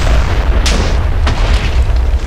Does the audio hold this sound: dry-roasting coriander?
no